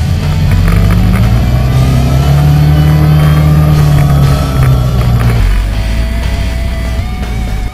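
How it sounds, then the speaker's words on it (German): Suzuki Burgman 650 scooter engine revving hard and steadily with manually shifted gears, loud and close, the pitch climbing and then dropping at a gear change. "per Schaltwippen am linken Lenker die Gänge manuell zu schalten und somit den Motor ordentlich"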